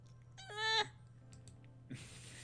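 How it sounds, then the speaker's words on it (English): A cat in the Hustle Cat video game gives a single short, close meow over a quiet steady hum, followed a moment later by a soft brief rustle. "That was the cat."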